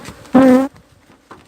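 Honeybees from a backyard hive colony buzz in a brief loud, close drone that stops abruptly, followed by fainter scattered buzzing.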